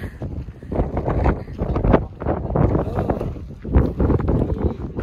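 Steady, loud wind buffeting the microphone at a hilltop viewpoint with a continuous rough rumble and gusty surges throughout, no voices.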